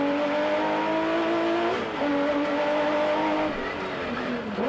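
A Porsche rally car engine heard from onboard, revving hard in a loud, raspy drone that rises and falls through quick gear changes, with a few brief dips between pulls.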